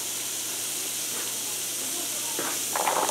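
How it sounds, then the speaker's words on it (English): Celery stalks sauté in a pan with a steady, close hiss of steam and sizzle, rising slightly louder near the end. "we'll just let this saute"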